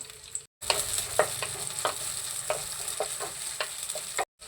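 Chopped onions fry in hot oil in a pan: a continuous close sizzle broken by repeated spatula scrapes and stirring clatters, with no talking.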